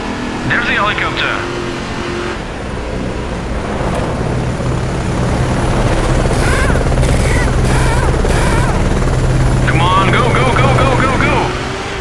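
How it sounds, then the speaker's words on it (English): Helicopter in the off-road racing game Baja: Edge of Control on Xbox 360, a rotor whir mixed with buggy engine noise and chirpy effects, while players talk over the gameplay. "There's the helicopter."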